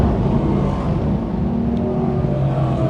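Sportsman race cars roar down the front straightaway at Can-Am Speedway, a loud continuous dense engine drone from several cars at once with no voice heard.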